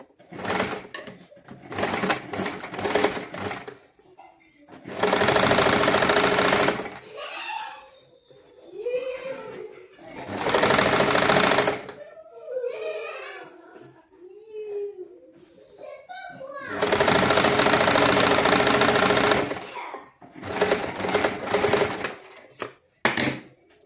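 Electric sewing machine stitching a reinforcing seam in a basic tailoring lesson, running in loud bursts of a few seconds each, separated by pauses filled with spoken instruction.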